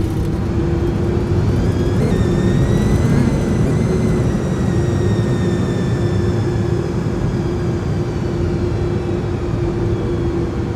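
Jet engines of an iniBuilds A300 airliner in Microsoft Flight Simulator, a steady loud droning roar with a high turbine whine that slowly shifts in pitch, continuous throughout with no talk.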